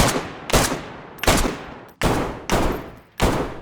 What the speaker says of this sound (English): when firing one of these weapons inside any interior, even inside a garden shed, the sound of the weapon is dramatically reduced